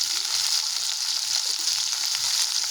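Ginger fries in a pan with a steady, even sizzle heard close and alone, with no talk over it.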